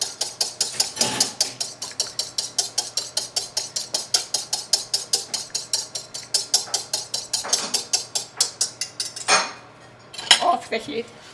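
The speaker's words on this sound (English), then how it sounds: "Just mix it up a little bit." A spoon clinks rapidly and rhythmically against a pot while stirring a thick Greek-style rice pudding, dozens of even metallic taps up close, ending in a brief clatter and scrape.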